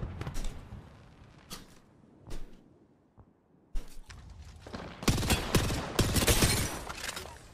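Gunfire rings out in an Apex Legends ranked match, first scattered single shots and short bursts separated by gaps, then a loud, dense barrage of rapid fire near the end.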